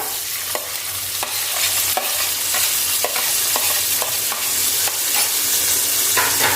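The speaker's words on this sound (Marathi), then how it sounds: "कांदा आपल्याला छान गुलाबी रंगावरती व्यवस्थित परतून घ्यायचा आहे" Onions fry in a pan for egg biryani, making a loud, steady sizzle while a spoon scrapes and stirs at a regular beat roughly every half second, close and without talk.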